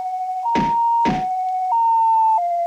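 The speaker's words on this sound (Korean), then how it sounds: "어, 앰뷸런스 왔다" An ambulance siren in a video game wails loudly and close, switching back and forth between two steady pitches. Two heavy thunks break in near the start, and no one talks.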